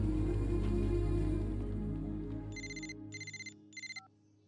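A mobile phone ringtone rings in a short repeated electronic pattern of three bursts, fairly clear over a low droning music bed that fades out beneath it.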